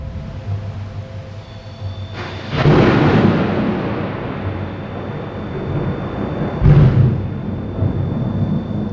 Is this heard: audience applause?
no